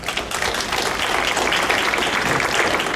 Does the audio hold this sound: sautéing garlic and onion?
no